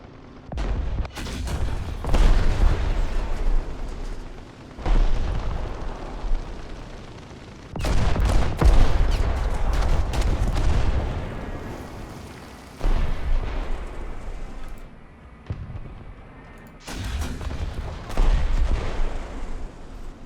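Heavy booming cannon shots from an M4A3 105 Sherman howitzer firing high-explosive shells in War Thunder, several loud blasts spaced a few seconds apart, each with a rumbling decay over constant low battle noise.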